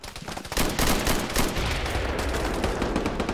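Rapid bursts of video game gunfire crackle loudly and almost continuously during a police special operations raid, with overlapping shots that sound like automatic weapons firing.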